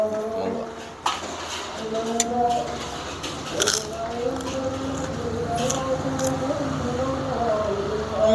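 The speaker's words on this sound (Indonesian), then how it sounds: "sekarang kita pakai kerupuk biar lebih kriuk-kriuk." Crisp bites and crunches of krupuk crackers eaten with rice and vegetables, a series of short clicky crunches spread through the clip under steady background music.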